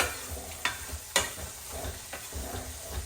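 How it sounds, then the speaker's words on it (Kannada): Four medium onions sizzle in a hot pan while a spatula scrapes and stirs through them, producing several sharp scraping strokes over a continuous low frying hiss. "ಅಷ್ಟು ಈರುಳ್ಳಿನ ಹಾಕೋತಾ ಇದ್ದೀನಿ"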